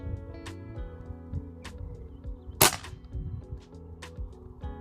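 A Crosman Prospect .22 air rifle fitted with its stock shroud baffles fires a single sharp, loud crack partway through, set against a hum of background noise and a few faint bird chirps.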